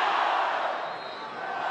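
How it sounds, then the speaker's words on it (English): A stadium crowd at a Marshall college football game at Joan C. Edwards Stadium roars in a loud, continuous mass of voices, with a broadcast commentator speaking over it. "And the We Are Marshall chant"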